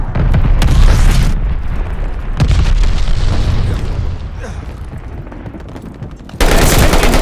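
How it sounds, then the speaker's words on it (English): A glide bomb explosion in Call of Duty: Vanguard lands among loud, booming blasts and rattling gunfire, heavy low rumbles that swell and fade before another sharp burst near the end, with voices underneath. "Enemy's got a glide bomb incoming."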